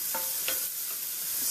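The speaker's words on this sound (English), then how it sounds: "So I'm saute my onions until they are quite" Onions sautéing in a pan give a steady, bright sizzle, with a faint scrape or stir near the start, close and continuous with no talking.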